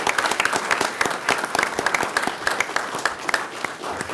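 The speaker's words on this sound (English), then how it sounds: "I think a round of applause is probably appropriate." An audience applauds at a police chief's swearing-in ceremony, honoring a retired director: dense, steady clapping from many hands carries through the whole stretch at moderate loudness, with no talking over it.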